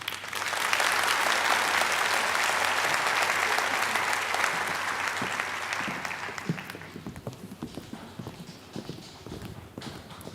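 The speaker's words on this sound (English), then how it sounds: "just give them an applause for their engagement." Loud, sustained applause from a large audience at an IFLA opening ceremony, steady for several seconds and then thinning out into scattered claps toward the end.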